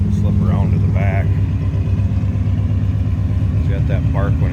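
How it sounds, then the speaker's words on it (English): A 2012 Ford F-150 Raptor SuperCrew 4x4 engine runs loud and steady with a deep, rumbling low-end throb, settling into a rough idle, with brief faint voices audible in the background. "It's got that bark when it starts up."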